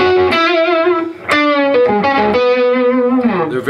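Distorted electric guitar playing a lead riff from a solo, with sustained bent and slid notes and vibrato, loud and continuous with no talking.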